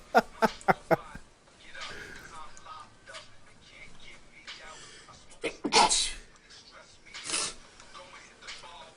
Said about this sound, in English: he just kept sneezing